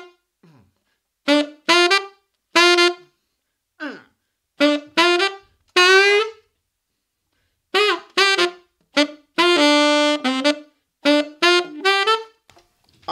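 Solo saxophone slowly plays a funk phrase, a string of short detached notes and brief runs with clear gaps between them, close and unaccompanied.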